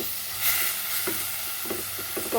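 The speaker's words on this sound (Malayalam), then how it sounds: "നല്ലപോലെ ഒന്ന് വഴറ്റിയെടുക്കാം." Onions sauté in beef stock in a pan for a Christmas beef dry roast, giving a steady sizzling hiss broken by occasional soft stirring scrapes and taps, close and with no talk.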